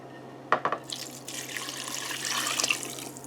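Bone broth pours from a container into a pot, starting with a few sharp splashes and then settling into a steady liquid stream that fades near the end.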